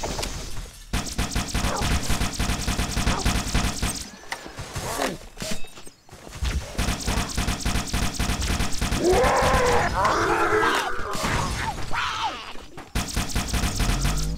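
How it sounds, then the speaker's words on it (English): Gunfire in the Halo video game, with repeated rapid bursts of shots and mechanical clatter breaking off and resuming, loud and close, while someone talks over parts of it. "Whoa, who's shooting at me?"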